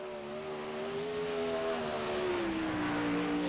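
A race car runs a lap at Lernerville, a sustained engine drone whose pitch sweeps slowly downward as it passes at moderate distance, loud and steady with no voices.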